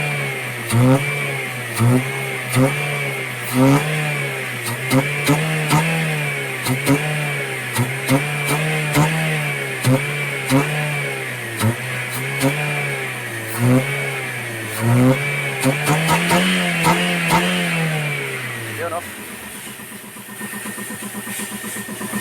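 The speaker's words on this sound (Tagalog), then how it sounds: "Grabe yung response ng engine, lakas." A Toyota Avanza engine, which has an intermittent acceleration fault, revs up and down repeatedly and loudly close by. The pitch rises and falls in a steady series of revs, then a final long rev, and the engine drops back to idle.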